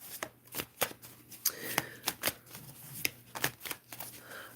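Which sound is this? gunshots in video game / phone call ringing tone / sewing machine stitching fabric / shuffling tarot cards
shuffling tarot cards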